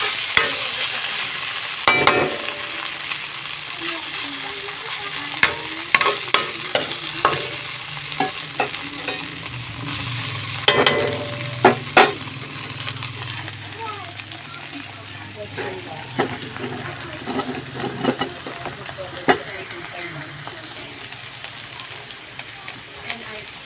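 Hotdogs sauté in a pan for a Filipino snack, steady sizzling and frying with scattered clinks and scraping of stirring, close and continuous.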